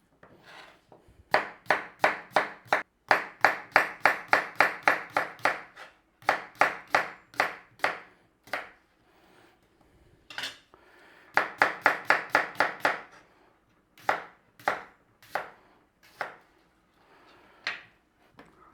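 A knife slicing peeled potatoes about half a centimetre thick on a board for a traditional Romany stew, crisp rapid chopping in bursts of quick regular strokes with short pauses between runs, close and clear.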